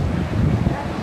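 Wind buffets the microphone on a windy day near the Cancun shore, a loud, low, rumbling gust that roars continuously through the short moment.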